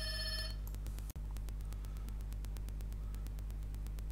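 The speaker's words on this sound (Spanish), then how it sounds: "Bueno, voy a atender el teléfono" A telephone gives one short electronic ring at the very start, then a steady low hum with faint static fills the rest of the quiet room.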